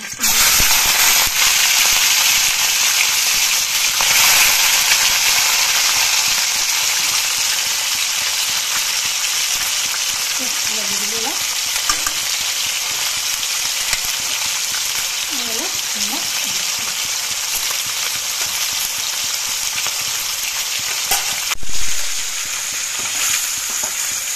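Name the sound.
fish frying in hot oil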